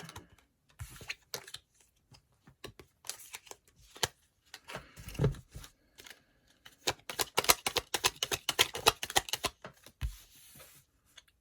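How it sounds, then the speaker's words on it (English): Tarot cards being shuffled by hand, a rapid run of crisp riffling flicks and slaps that speeds into a dense flurry before stopping, heard up close with no talk. "Cards flying out everywhere."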